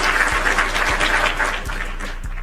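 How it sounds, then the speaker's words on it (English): A short burst of crowd applause, full and even at first, then thinning and fading toward the end, with a few low thumps underneath. "Round of applause too for that one surviving."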